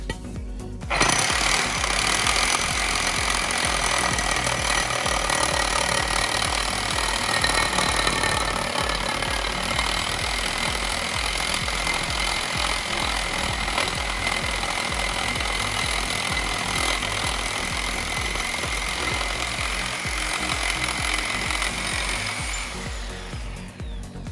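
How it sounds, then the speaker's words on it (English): A power grinder works steadily on a modified steel brake spindle for an LS-swapped Camaro, rounding off edges and burrs with a loud, continuous, harsh whir that runs nearly the whole stretch before winding down at the end. "I'll probably round off some of these surfaces and get rid of any burrs that might cut me later on."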